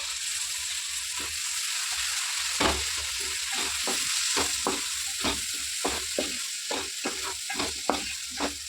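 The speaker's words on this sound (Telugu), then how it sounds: "ఇవ్వండి వంకాయలు వేసేస్తున్నాను. ఒక 1 కిలో వంకాయలు అండి." About a kilogram of eggplant pieces fry and sizzle in a pan for a mango and fish curry, with a steady hiss broken by repeated stirring scrapes, all close by and with no talking.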